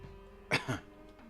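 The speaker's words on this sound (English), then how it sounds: "That cough seemed deliberate." One short, sharp cough in two quick bursts from the video game Yurukill, close and clear over a faint steady background hum.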